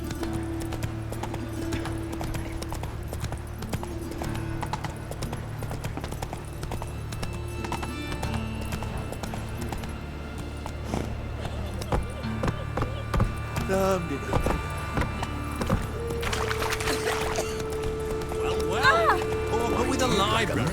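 Hooves of Roach, a horse in The Witcher 3: Wild Hunt, clopping in a steady rhythm beneath game music and spoken dialogue, with a brief whinny near the end.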